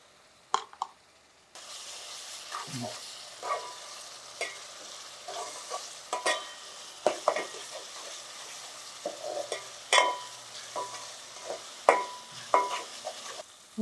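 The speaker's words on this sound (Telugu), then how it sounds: "అల్లం వెల్లుల్లి పేస్ట్ వేసుకుందాం." Ginger garlic paste frying in a pan for a chicken and brinjal curry, a sizzle that starts after a quiet opening, then repeated stirring and scraping knocks over a steady crackle, close by with no voices.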